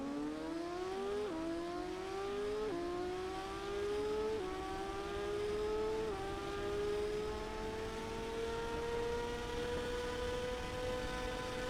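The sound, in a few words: motorcycle engine revving at the start, TT Isle of Man 2 video game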